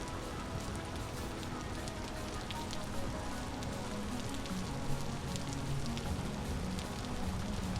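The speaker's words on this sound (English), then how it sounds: "It's like actually raining here" Steady rain falls outdoors as a dense, even hiss of drops pattering on surfaces, close and continuous throughout.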